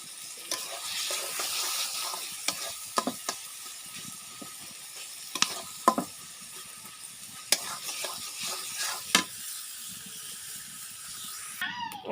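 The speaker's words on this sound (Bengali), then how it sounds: "এই যে হলো আমার ইলিশ মাছের ডিমটা ভুনা হয়ে গেছে," Hilsa fish roe, broken up into crumbs, stir-fried in a pan with a steady low sizzle, punctuated by repeated sharp scrapes and clatters of a spatula against metal, close by and without talk.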